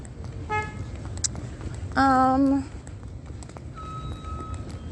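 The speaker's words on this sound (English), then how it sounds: "The honking of the horn" A car horn sounds in one loud, steady blast of about half a second, with shorter, fainter horn-like toots before and after it over a constant low rumble of outdoor background noise.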